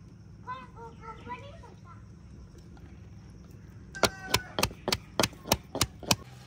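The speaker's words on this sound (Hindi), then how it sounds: "अदरक के साथ ही हम कूट लेंगे लहसुन।" Ginger and garlic are pounded together, starting with a few seconds of quiet background and a faint voice, then about eight sharp, evenly spaced, close-up strikes.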